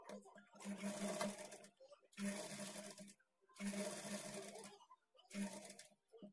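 A sewing machine stitches blouse fabric in four short bursts of quiet, rapid mechanical whirring and ticking, each broken by a brief pause.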